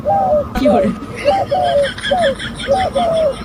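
A dove coos in a repeated soft, rhythmic phrase, close and clear, with some background murmur underneath.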